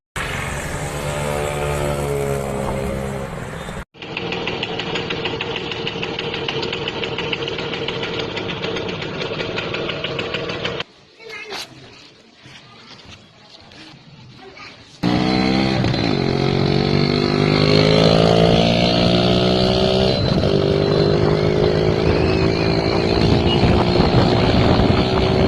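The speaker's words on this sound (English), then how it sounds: "it is 4 plates clutch, original 150cc engine." An original 150cc Lambretta scooter engine with a four-plate clutch runs close by, a loud, continuous two-stroke drone with several revving swells and a brief quieter stretch midway.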